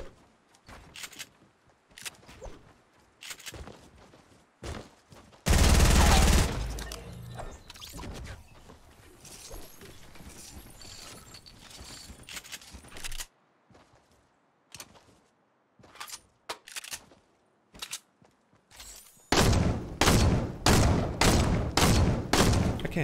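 A thermal-scoped rifle fires in Fortnite. Loud single shots come at irregular intervals, with a sustained burst of heavier fire in the middle and a quick run of shots near the end.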